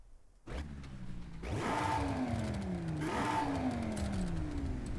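An Audi RS3 engine in Forza Horizon 5 revs hard, climbing steeply in pitch twice in quick succession, loud and close, with a raspy, buzzing tone and no talking.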